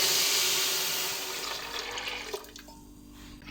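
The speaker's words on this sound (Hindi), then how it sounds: "अब इसके अंदर 2 गिलास पानी ऐड करेंगे।" Water pours into a pressure cooker holding soaked chana dal, a steady rushing splash that gradually thins and tapers off near the end, close and alone without talking.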